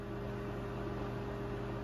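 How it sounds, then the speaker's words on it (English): A microwave oven runs steadily, heating a cup of water with a beef bouillon cube dropped in, giving a continuous low hum with a faint electrical whine throughout and no talking. "you're gonna go to your microwave and microwave this guy for 2 minutes"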